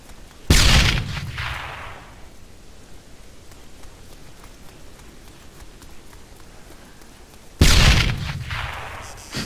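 A grenade explodes in Arma 3 Breaking Point, a zombie survival game: a heavy, close boom at the start rolls into a long rumbling decay, and a second loud blast lands near the end, with fainter gunfire crackle between them.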